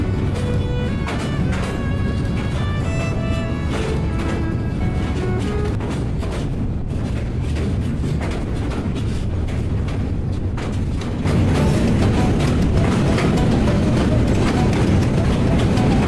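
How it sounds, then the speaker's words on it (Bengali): Jayantika Express intercity train rumbles across the Bhairab railway bridge, a loud continuous roar of wheels and steel that grows heavier and denser toward the end, with no voices. "আন্তনগর জয়ন্তিকা এক্সপ্রেস প্রবেশ করছে ভৈরব রেলওয়ে ব্রিজে।"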